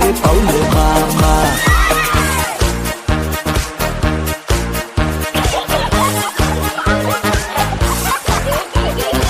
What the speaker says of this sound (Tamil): கட குடுகன குதிரை வந்துச்சு